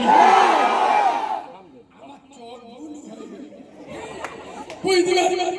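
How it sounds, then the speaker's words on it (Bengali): A crowd at a Bangladeshi waz sermon shouts the Nara-e-Takbir call in a loud, massed burst, then fades to murmuring chatter before a second rise of voices. "শুধু ভিতরে যারা আছে তারাই আওয়াজ দেয় নারী তাকবীর"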